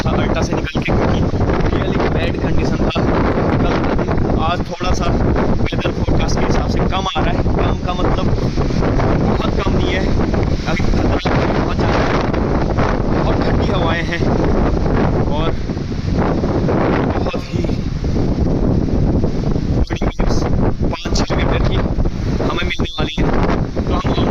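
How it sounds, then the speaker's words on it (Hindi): Strong, icy wind buffets a boat crossing the Arctic Ocean out of Tromsø, with a constant loud roar and gusty rumble across the whole stretch and possible water noise underneath. "काफ़ी ज़्यादा तेज़ हवाएं हैं"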